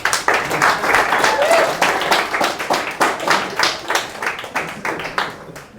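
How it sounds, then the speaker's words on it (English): A poetry-reading audience claps warmly and continuously, a dense, fairly loud round of applause with individual hand claps standing out, thinning slightly toward the end before a sudden stop. "So please, a round of applause of support for inclusion for everybody."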